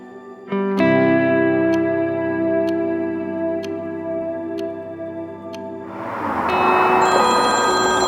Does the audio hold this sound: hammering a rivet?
no